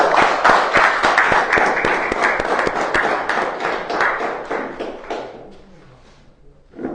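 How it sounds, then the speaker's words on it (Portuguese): A church congregation claps in rhythmic unison for Jesus, quick steady hand claps at close range that thin out and fade after about five seconds into quieter murmuring. "Salve de palmas para Jesus."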